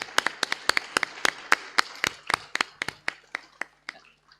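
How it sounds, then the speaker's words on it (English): A lone person claps hands at an awards ceremony, about twenty sharp claps in a steady rhythm that slows slightly and fades toward the end, close and clear with no talking. "I'm going to clap them out"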